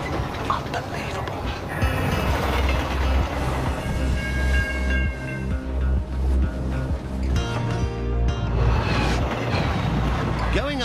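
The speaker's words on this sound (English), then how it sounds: "This train is half a mile long." The Ghan, a very long passenger train on an Australian railway, rumbles and clatters along the track in a loud, continuous roll with rhythmic clicks, while a voice talks over it.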